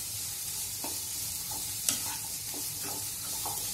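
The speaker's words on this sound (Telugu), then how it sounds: "ఒక కప్పు సన్నగా కట్ చేసుకున్న క్యాప్సికం కూడా యాడ్ చేసుకోవాలి వీటిని కూడా ఫ్రై చేసుకోవాలి" Finely chopped capsicum fries in a pan for a paneer cheese sandwich, a steady close sizzle broken by several scraping stirs of a spatula.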